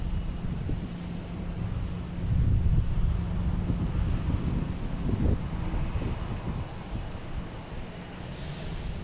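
A JetBlue Airbus A220 airliner flies past at Boston Logan Airport, a steady broad roar that swells around the middle and eases off, heard alone from the ground.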